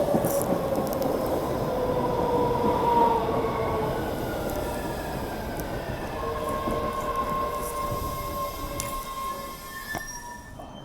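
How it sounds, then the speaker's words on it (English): A train pulls into a station platform, its rumbling wheels joined by drawn-out metallic squeals that glide in pitch, a steady, loud roll that eases slightly toward the end. "Here comes the train. Please mind the yellow platform line."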